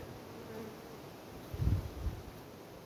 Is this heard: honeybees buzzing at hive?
yes